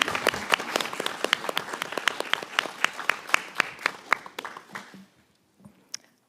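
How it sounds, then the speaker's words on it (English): A small room at a township board of education meeting breaks into a round of applause, with sharp, distinct hand claps close by for about five seconds, thinning out and stopping, then one or two stray claps after a brief silence. "I think we should give him a round of applause."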